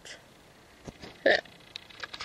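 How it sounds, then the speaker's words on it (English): A single sharp hiccup from a woman pops out clearly over quiet room tone, with a few faint small noises around it. "I have hiccups."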